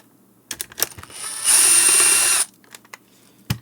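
A power screwdriver whirs in one steady burst while removing screws from a Bissell Model 22889 rechargeable cordless vacuum. Short clicks and handling taps come before and after, all close up with no talking.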